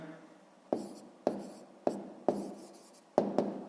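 A pen writes numbers for a sixth-grade math exercise on paper, in six short, scratchy strokes in an uneven rhythm, close and quiet with near silence between them.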